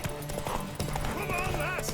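A horse gallops in The Witcher 3 video game, a mare pushed hard in a race, with quick hoof beats briefly heard under a man's urgent speech and game music.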